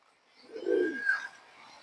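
An old Bagha pigeon gives a single soft, low coo up close in otherwise quiet surroundings.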